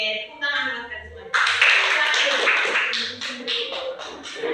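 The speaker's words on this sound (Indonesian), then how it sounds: "Oke, tepuk tangan dulu teman-teman." Fifth-grade pupils in a primary-school classroom clap their hands together in a loud, sustained burst of rapid claps, after a teacher speaks briefly at the start.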